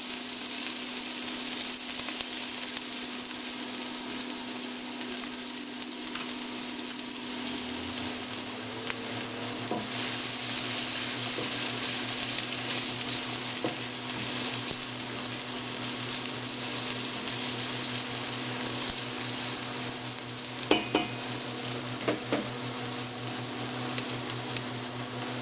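Crab and onion sauté in a pan for a long stretch, a steady close sizzle and frying hiss with occasional clinks and scrapes of stirring.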